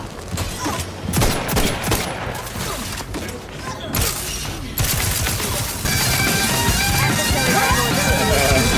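Video game gunfire in The Outer Worlds 2: repeated loud bursts of rapid shots and thuds, near and dense throughout, with a steadier barrage in the final seconds.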